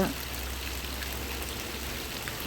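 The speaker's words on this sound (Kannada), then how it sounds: "ಈ ಥರ ನೋಡಿ ನಾವು ಹೊರಗಡೆ ಕೂತು ಮಳೆ ನೋಡ್ತಾ ಇರ್ತೀವಿ" Steady rain falling, a continuous even hiss of drops with a low rumble underneath, no voices.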